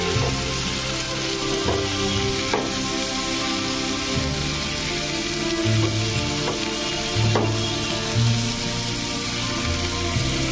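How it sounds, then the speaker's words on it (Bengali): Vegetables seasoned with salt, turmeric and Kashmiri red chili fry in a pan with a loud, continuous sizzle, broken by a few sharp clinks and scrapes of stirring; no one speaks. "নিয়ে এটাকে 2 মিনিট ভেজে নিয়ে এটাকে তুলে দেবো।"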